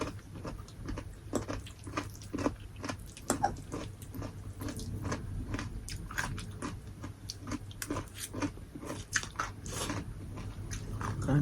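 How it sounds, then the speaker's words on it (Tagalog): Crunchy chewing and biting of carrots eaten with sweet and sour fish, close and steady with repeated crisp bites and mastication, no talking. "Crunchy pa yung ninjin, yung carrots."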